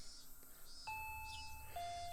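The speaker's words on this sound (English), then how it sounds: "When I approached the front door, the doorbell rang. Ding dong!" A two-tone ding-dong doorbell chime sounds in the Higurashi video game, a clear high tone followed by a lower one and both ringing on, over a faint low background hum.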